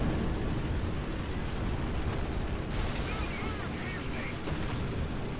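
Incoming artillery fire in War Thunder during a Panzer III Ausf. J1 tank battle: a continuous heavy rumble of distant explosions and booms, loud and unbroken throughout.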